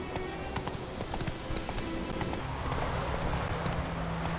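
A horse gallops in The Witcher 3, its hooves beating a steady, fast clip-clop close by over a constant outdoor game ambience, with no talking.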